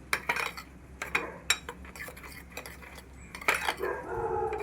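A spoon mixes fenugreek gel with coconut oil in a bowl, giving irregular sharp clinks and scrapes against the bowl, close and fairly quiet, with no talking.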